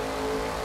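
A car engine revs steadily and loudly in the racing video game The Crew 2, a continuous droning roar with no speech.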